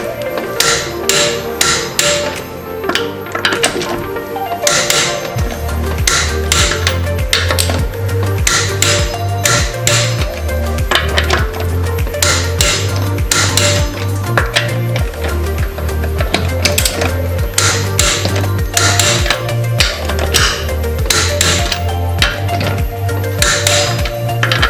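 Rapid mechanical hammering bursts from a Milwaukee cordless impact wrench tightening wheel bolts to 120 Nm, repeated in steady short runs over a low humming drone, close and loud.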